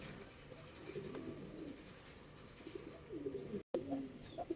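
Danish fancy pigeons coo at a pigeon farm in soft, repeated low murmurs, with faint chirps, scattered background noise and a brief dropout near the end.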